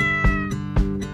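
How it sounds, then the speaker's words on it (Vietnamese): Two drawn-out meows from a cat, loud and close, each rising and then trailing off, with no other sound around them. "Mèo ra ngoài nào, đi đi."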